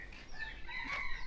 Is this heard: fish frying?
no